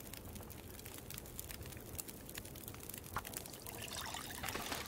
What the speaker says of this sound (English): Boil that water.